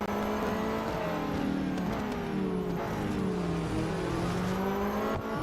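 Several race cars from the mobile racing game Real Racing 3, engines droning steadily and closely together in a tight pack, a continuous loud mechanical roar with shifting pitch throughout and no talk.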